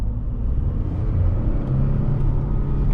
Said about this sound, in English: Exhaust on this one